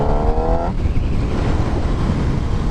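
A Yamaha R1 sport motorcycle engine roaring while being ridden, loud and continuous with close rushing noise, a brief whining tone at the start before it settles into a steady broadband drone.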